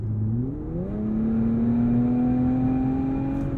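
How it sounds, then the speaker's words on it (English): A 2023 Infiniti Q50 Red Sport with 400 horsepower accelerates from inside the cabin: engine tone drops briefly as the gearbox downshifts, then a steady rising drone builds as boost comes in, loud and continuous without talk. "You do have to wait a second or two for the gearbox to downshift and for the boost to build."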